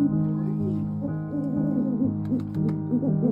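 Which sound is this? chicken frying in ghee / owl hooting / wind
owl hooting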